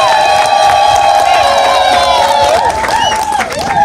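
A crowd of villagers in Mgodechi cheers and whoops at a campaign event, a loud and continuous mass of voices with a strong sustained tone running throughout.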